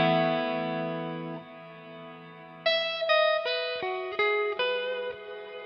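An electric guitar plays a long held chord, then a run of plucked notes, with a ducking reverb from a Line 6 HX One swelling up between and after the phrases.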